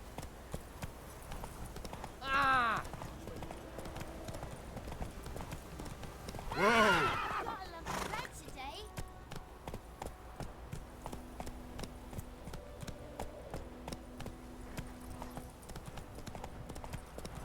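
Roach, a horse in a video game, walks with steady, faint, rhythmic hoof clip-clops and gives two louder whinnies early on.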